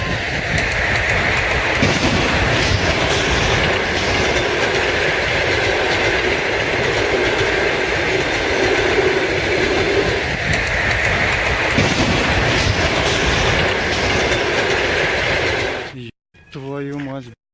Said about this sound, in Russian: Пассажирский поезд.